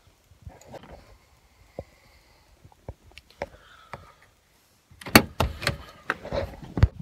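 An older used car bought for under $1,200 gives off sparse clicks and knocks from its doors and latches, then sharper, louder thuds of a door being opened and shut. The sounds are close by and no one speaks.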